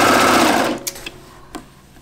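A sewing machine runs at the shoulder seam of a knit jumpsuit sleeve, a steady close whir that stops partway through, followed by a few small clicks.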